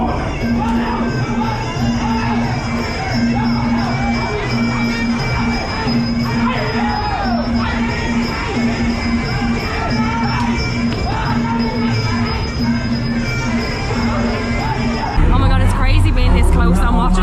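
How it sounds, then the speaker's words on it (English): Crowd noise at an amateur Muay Thai fight in Bangkok, a steady babble of voices with scattered shouts and yells, a constant tone running underneath, and louder rustle near the end. "we can kind of see there's a bit of a crowd at it"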